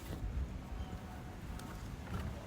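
Steady strong wind rushing and buffeting the microphone, a continuous low roar with no speech.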